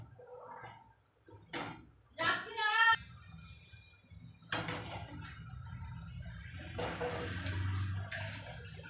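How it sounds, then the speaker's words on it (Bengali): Cooked vegetarian lentil dal with ridge gourd, finished with a little ghee, is poured out of the pan in a home kitchen, giving a soft, wet splashing and sloshing that rises and falls over several seconds. "আমার ডাল রেডি, এবার ঢেলে নেব।"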